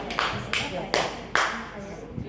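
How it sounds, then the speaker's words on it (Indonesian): An audience claps in a few short scattered bursts at a community gathering, with a voice speaking through them. "Tepuk tangan untuk kita semua"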